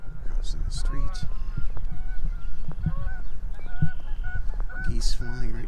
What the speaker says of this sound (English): Geese flying right towards us.